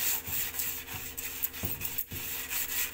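A fridge surface is scrubbed with soap and water to lift stains, giving steady close rubbing strokes in a continuous rhythm with no talking.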